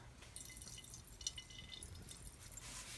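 Soft, irregular dripping and trickling of liquid emulsion poured onto a photographic plate, quiet and close, with small splashes scattered throughout.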